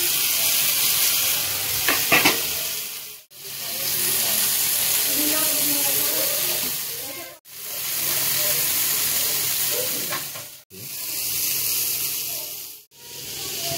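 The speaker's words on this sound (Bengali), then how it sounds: "হালকা রিফাইন তেল দিয়ে নিচ্ছি, জাস্ট ব্রাশিং করব। গরম হয়ে গেছে, সব চিকেনগুলোই ঢেলে দিচ্ছি।" Chicken sizzles in hot refined oil with a steady loud frying hiss close to the pan, cut into segments by brief dips and a few clatters early on.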